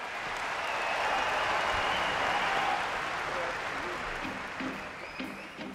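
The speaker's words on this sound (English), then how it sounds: "Please give a big round of applause for this wonderful orchestra." Dense applause from a concert audience for an orchestra at Royal College in Colombo, a steady wash of many clapping hands that holds level for several seconds and then thins slightly toward the end.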